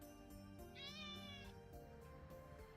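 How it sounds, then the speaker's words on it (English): A single clear meow from Pepper, a cat in a fan-made Shiori Novella visual novel game, rises and falls over soft background music, close and alone with no talking. "One of Shiori's cats, Pepper, rubs against my legs and looks up at me with curious eyes."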